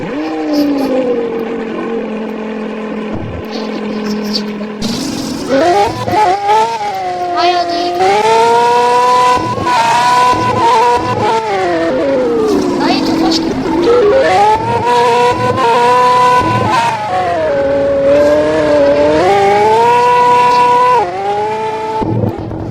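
A Lamborghini in a video game revs its engine loudly and continuously, the pitch climbing and falling through gear changes, with bursts of tire squeal throughout the long run.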